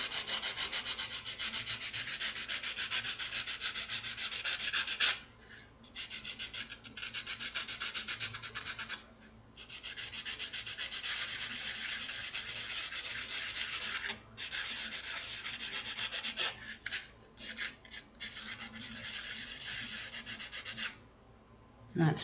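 A wire-wrapped earring is sanded off its frame with steady, close rubbing strokes that continue for long stretches, broken by a few brief pauses.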